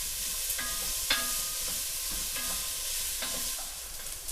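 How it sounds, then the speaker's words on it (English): Garlic, onion and carrots sauté in a pan, an even hiss of frying broken by a few light scrapes and taps of a utensil, steady and close with no one speaking. "So it's been about 4 minutes and my garlic, onion, and carrots are sauteed"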